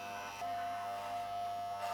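Electric hair clippers with a half guard and the lever half open fade the sides of a head of hair, a steady close buzz with a faint hum beneath it.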